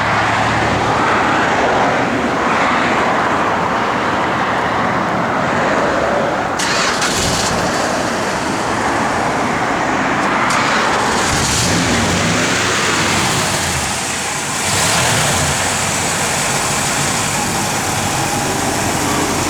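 A 1966 Plymouth Fury III engine running, a steady, fairly loud broadband rumble lasting throughout with small shifts in level and no talk over it.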